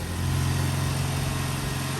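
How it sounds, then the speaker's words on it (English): Idling engine of a Volkswagen Passat 1.8 TSI fitted with a CTS Turbo cold air intake, a steady loud low rumble with a strong droning hum and no clear rev rise. "Go ahead and rev it a little bit."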